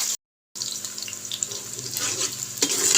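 Garlic and onion frying in hot ghee, a steady close crackling sizzle with scraping stirs, broken by a short silent gap near the start.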